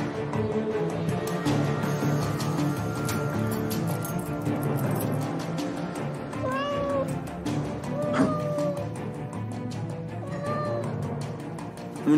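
A cat meows several times in a row, clear and fairly close, the cries rising and falling over a murmuring background bed of sound in an apartment.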